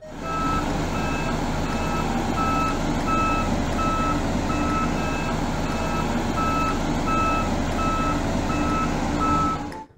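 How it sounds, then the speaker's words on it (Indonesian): A toy compactor roller truck sounds a steady series of electronic reversing beeps, evenly spaced and loud over a constant motor hum, continuing for about ten seconds with no talking. "Di sini ada mobil kompaktor atau mobil salender."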